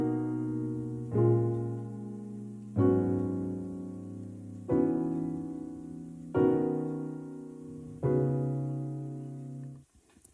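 A piano plays a passing chord progression as five sustained chords. Each is struck clearly and rings out before the next one, at an even, unhurried pace, and the last chord fades away.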